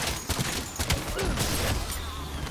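Shadow SK gunfire in Black Ops 7 Zombies, a burst of sharp repeated shots with mechanical clatter amid busy game noise, close and fairly loud.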